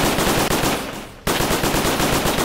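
Rapid automatic gunfire in the Roblox shooter Bloxfield FPS, loud and close, rattles in a fast even stream, breaks off briefly for about half a second, then resumes at the same pace.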